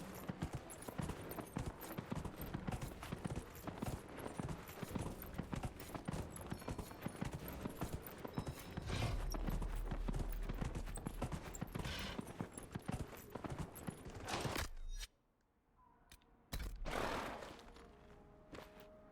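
Horse hooves clip-clop at a fast, steady gallop in the fantasy game Dragon Age: Inquisition, a dense continuous drumming that cuts off abruptly near the end before a short burst of hoofbeats returns.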